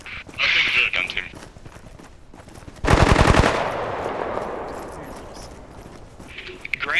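Burst of rapid machine-gun fire from a gun team in the multiplayer game Bellum, a dense rattling volley lasting about half a second, then a lingering echoing tail, with voices talking before and around it.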